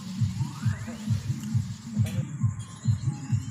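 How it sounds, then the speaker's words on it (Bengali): A 9-inch Berger wall sanding machine runs on wall putty, producing a steady low rhythmic throbbing hum that pulses about three times a second, with faint higher whine and a brief scrape in the background. "ওয়ালপটি ঘষার মেশিন দিয়ে ঘষার কাজ চলছে।"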